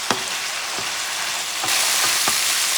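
Ground meat fries loudly in a pan with a dense, continuous sizzle, a few stirring scrapes spaced through it, and the hiss swells slightly partway through.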